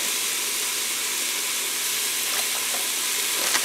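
Cumin seeds toasting in hot frying oil for Mexican meatball soup, giving a steady close sizzle and hiss with faint crackles, no voices.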